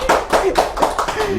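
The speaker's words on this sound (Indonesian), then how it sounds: "Bisa tepuk tangan dulu dong." Evenly spaced handclaps ring out close by in a live talk-show studio discussion, with voices speaking over them.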